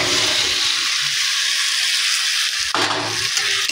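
Potatoes for aloo dum hit a pan, giving a loud, dense hiss of frying that surges sharply partway through as the pieces land, then carries on steadily.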